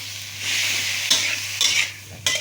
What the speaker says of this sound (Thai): สามชั้นลงไปแล้วพี่น้องก็ เราก็จะผัดให้หอมก่อน